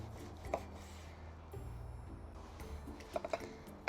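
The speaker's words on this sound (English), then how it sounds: "I've got a little lime that I just want to wedge" A knife cuts a small lime into wedges on a kitchen board. Quiet, soft scraping and a few sharp taps of the blade come at uneven intervals.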